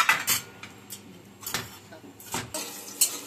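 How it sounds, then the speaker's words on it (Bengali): Spatula clinks and scrapes against a wok while lentil nuggets fry in hot oil, giving a few sharp metallic knocks at irregular moments, fairly faint, with no talking. "তেলের মধ্যে বড়িটা আমি ছেড়ে দিচ্ছি। একটু নেড়েচেড়ে ভেজে নেব।"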